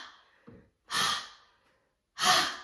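Rapid yoga breathing at triple speed during a Kundalini session: a faint short breath followed by two strong, loud rushing exhales about a second apart, close and alone.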